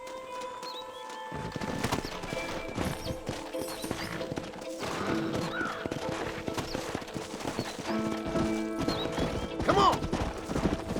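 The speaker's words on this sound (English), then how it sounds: "Horses are over here!" Hooves clip-clop in a quick rhythm as horses move in a Western setting in Red Dead Redemption, with a neigh and mechanical clatter layered over music and a short shout.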